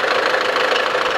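A cold Land Rover Discovery Sport Ingenium diesel engine idles with a rapid, steady metallic knocking ticking through its mid-pitched drone, close and loud, with no voices.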